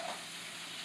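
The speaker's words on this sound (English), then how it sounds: "I hear my thing sizzling back here." Food sizzles in bacon grease in a pan, a steady dense hiss of frying that is close and continuous for a brief moment.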